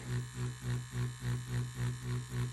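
A Neebol wireless tattoo machine runs alone at a low voltage setting for dotted shading, giving a quiet, steady buzz that pulses in a regular rhythm of about three beats per second.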